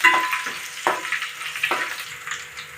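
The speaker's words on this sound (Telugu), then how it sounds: "కరివేపాకు. పోపు బాగా వేగాలండి." Mustard seeds, cumin, garlic, dried red chillies and curry leaves fry in a hot pan for okra stir-fry, hissing steadily with a few sharp crackles and spatters. The sound fades slightly toward the end, with no voices.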